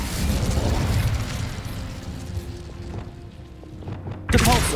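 Incendio fire spell cast in the Hogwarts Legacy video game: a loud whooshing, bursting blast of flame with a low rumbling body, trailing off over a few seconds before a sharp new burst at the end.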